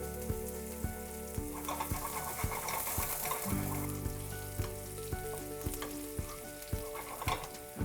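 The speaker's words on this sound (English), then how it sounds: "Then goes in a teaspoon of cumin seeds. Let them sizzle." Cumin seeds, green chilli and thinly sliced garlic sizzle steadily in hot oil in a pan for spinach dal, a continuous close frying hiss with small crackles and a few light utensil taps, no talking.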